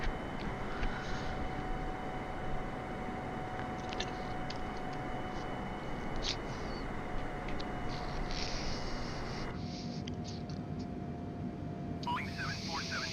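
Steady broadband engine roar of a Boeing 747 cruising in Microsoft Flight Simulator, constant and unbroken throughout, with faint tonal hums and radio voices talking over it.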